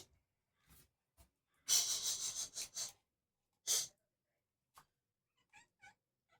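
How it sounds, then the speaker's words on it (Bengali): A cat that has come indoors after fish heads gives short, close meows and breathy sounds in scattered bursts, with quiet gaps between them and no talking. "বিড়াল ঢুকেছে"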